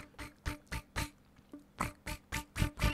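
A flute imitating crickets, a run of short, breathy chirping bursts in a quick, uneven rhythm, a brief pause, then more chirps, heard close and alone.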